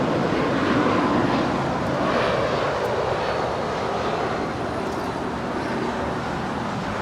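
An airliner on takeoff from runway 25 right at LAX, a loud, dense and steady roar of jet engines that holds at full strength throughout, with no voices over it.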